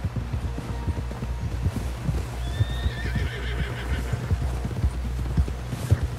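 Horse hooves clop in a steady rhythm in Red Dead Redemption 2 as a horse is ridden toward camp, with a whinny rising partway through over a low ambient hum.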